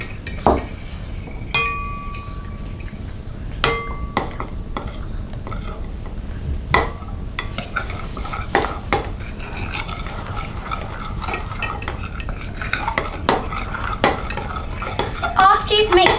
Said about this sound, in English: Now you're going to mix it.